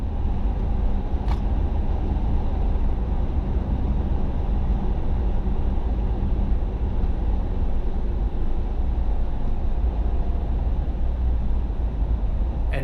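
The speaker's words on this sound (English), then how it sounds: "here is me taking the same corner at the same time of day at the same speed in a 2003 Subaru Forester" A 2003 Subaru Forester with 175,000 miles on no-name all-season tires takes a corner, giving a steady, even road and engine drone from inside the cabin with no sudden changes.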